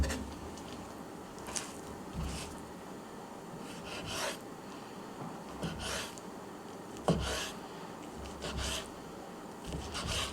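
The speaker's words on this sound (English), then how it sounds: "slice thin against the grain. Cut thin strips." A knife cuts pheasant meat into thin strips against the grain, giving soft repeated rasping strokes at an uneven pace, close and fairly quiet, with no talking.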